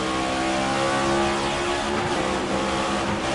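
A NASCAR Cup Series stock car in a racing game at Circuit of the Americas howls under steady acceleration after a green-flag restart, with a loud, continuous engine drone and strong harmonics and no voices.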